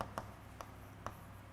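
Marker or chalk strokes on a board during a maths lecture, three short faint taps or scratches spaced about half a second apart over quiet room tone.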